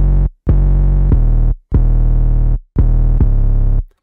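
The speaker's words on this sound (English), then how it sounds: "And then you got another 808 right here." Another 808 bass pattern from a pluggnb beat, long sustained booming sub-bass notes broken by brief pauses, loud and heavy with no talking.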